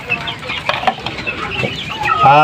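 Young chicks with swollen faces cluck and peep in a series of short close calls, ending in a louder, longer harmonic squawk.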